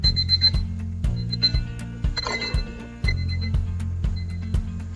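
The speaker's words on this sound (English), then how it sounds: "The alarm's ringing." An alarm clock rings loudly and insistently, a buzzing tonal pattern that repeats in regular pulses with sharp ticking clicks over the top, continuous with no voices.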